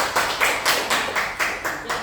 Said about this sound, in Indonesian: kita kasih tepuk tangan untuk Siti